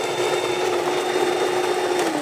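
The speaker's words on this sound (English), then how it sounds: "So I'm going to blend it on high." A blender whirs at high speed through an icy tropical drink, a steady loud motor drone with a sustained tone and grinding texture, close up, with no talking.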